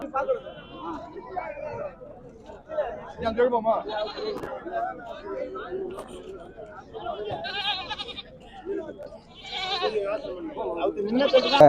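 Goats bleating at a busy goat market in Udayarpalayam, Tamil Nadu, with repeated cries rising over constant nearby talk and crowd chatter, the bleats growing louder and more frequent toward the end.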